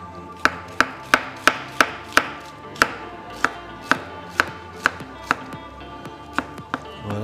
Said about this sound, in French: On va émincer le fenouil.